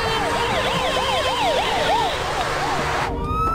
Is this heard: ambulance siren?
yes